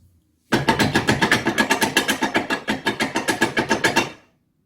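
Trailer hitch rattling while towing a trailer, a steady run of loud, rapid metallic clunks repeating about every fifth of a second for several seconds, close and alone.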